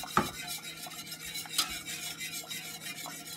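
A whisk stirs butter in a warm pot on a switched-off stove, making quiet rhythmic metallic clinks and scrapes against the pot with a faint hiss underneath, close-up and without talk.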